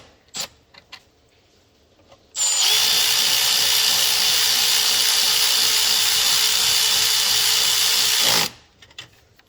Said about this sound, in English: Put that on the impact. Tighten this up.